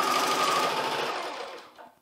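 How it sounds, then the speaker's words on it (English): An embroidery machine stitching a hat runs at a rapid, steady mechanical whir, loud and close, then slows and cuts off near the end. "I'm gonna hold it while it starts to sew, and hopefully it'll go ahead and catch"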